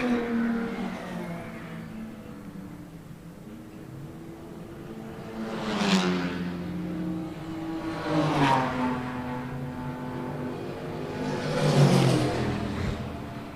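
Race cars in a nine-hour endurance race at Killarney Raceway sweep past one after another, three rising and falling engine roars approaching and fading at a distance over a steady background drone.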